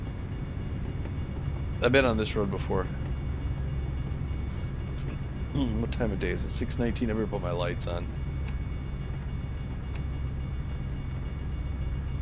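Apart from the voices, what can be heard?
freight train passing slowly in American Truck Simulator video game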